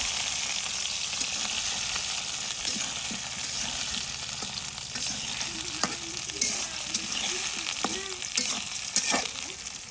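Onion, green chili and garlic fry steadily in hot oil on a tawa, a continuous sizzle broken by occasional stirring scrapes and clinks, close and alone without talk.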